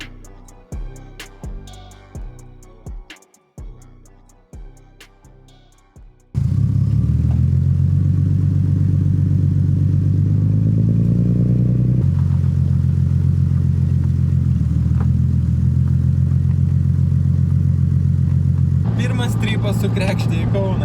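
A turbocharged BMW E36 first gives a few separate bursts, then drives under a loud, steady engine drone that rises in pitch as it speeds up and holds through the rest.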